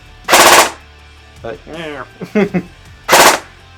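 Secutor Aquila VII airsoft light machine gun, black, fires two loud full-auto bursts, each well under a second, with a short stretch of faint mechanical clicks and a brief rising whine between them.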